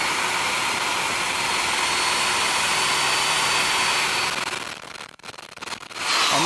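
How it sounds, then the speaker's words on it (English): A power sander whines steadily against a wooden burl at close range, then cuts out near the end with brief rubbing and handling noises before starting up again. "This is the way I'm going to do my sanding."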